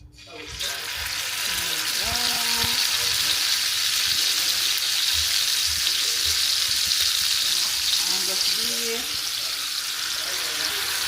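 Filet mignon steak seasoned with salt frying in hot oil, a loud steady sizzle that starts abruptly and holds throughout, with faint clinks and scrapes of cookware underneath.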